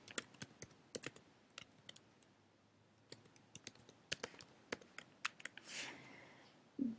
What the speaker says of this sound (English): click anywhere you want on your picture and begin typing